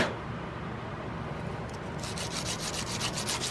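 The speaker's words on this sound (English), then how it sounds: "And you can always come in with that file back sandpaper." File-backed sandpaper is worked over a gun's nose cap while building an Investarms Gemmer Hawken rifle, giving a steady close-up abrasive rubbing that turns into rhythmic back-and-forth strokes toward the end.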